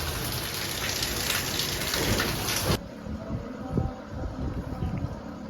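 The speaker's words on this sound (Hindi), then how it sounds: "बिन मौसम बरसात।" Unseasonal rain pours down in a dense, loud hiss that cuts off abruptly partway through, leaving quieter scattered drips and patters for the rest.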